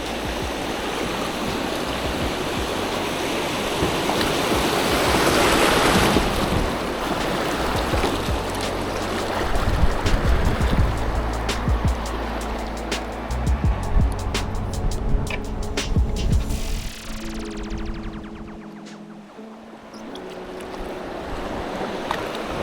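Rapids on the Devils River rush as a continuous, loud, broadband churn of water close around a small boat, with knocks and shifting hull noise and no talk.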